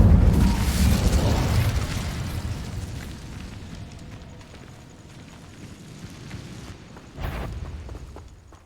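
Incendio fire spell in the video game Hogwarts Legacy, a loud fiery whoosh and rumbling burst up front that slowly fades, with a second sharper flare near the end.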